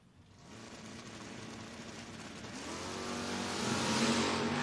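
A Chevrolet Blazer and a 1990 Ford Mustang launch in a bracket drag race, a distant engine roar swelling steadily louder over a few seconds with no commentary heard.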